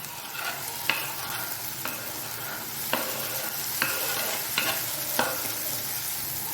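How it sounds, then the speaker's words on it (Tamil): Finely chopped tomatoes sauté in a pan for mushroom gravy, with a constant oily sizzle and a steady, regular series of distinct stirring scrapes and taps from the spatula. "இப்போ தக்காளியை நல்லா வதக்கி விடுங்க"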